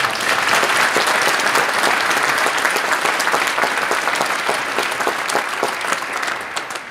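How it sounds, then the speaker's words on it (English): An audience at a state Teacher of the Year ceremony claps loudly and continuously, a dense crowd of hands sustained for about seven seconds and tapering slightly near the end. "Please join us in one final round of applause and appreciation for all of our sponsors"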